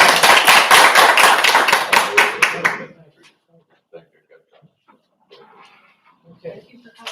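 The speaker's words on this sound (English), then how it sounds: "We get to clap." Audience applause at a township board meeting, a dense burst of many hands clapping for about three seconds before cutting off to near silence, followed by faint scattered room noises and low murmurs.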